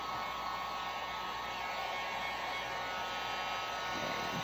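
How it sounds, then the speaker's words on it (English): A heat gun warms 3D blooms with a steady, close, even blowing whir that runs unbroken throughout at moderate loudness. "Heat gun, warm them all up."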